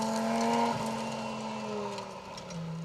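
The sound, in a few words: Group 4 Audi Quattro rally car driving on stage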